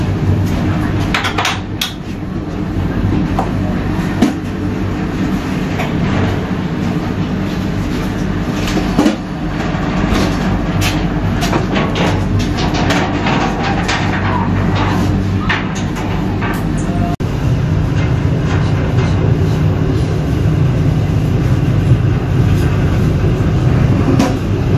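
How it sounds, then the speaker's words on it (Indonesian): The Argo Cirebon train pulls out of Cirebon station with a continuous rolling rumble and scattered metallic clanks and rattles, steady and fairly loud throughout, heard from on board. "Argo Cirebon diberangkatkan dari stasiun Cirebon."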